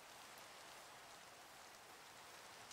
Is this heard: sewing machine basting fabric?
no